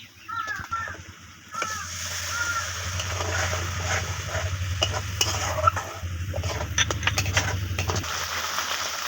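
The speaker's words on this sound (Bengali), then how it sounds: "মশলা দিয়ে তেল ছেড়ে দিয়েছে এবার আমি জল দিয়ে দেবো" Water poured into a pan of hot spiced oil for a silver carp curry, giving a loud sustained sizzle and bubbling splatter that runs for several seconds after a brief stirring start, with faint clinks over it.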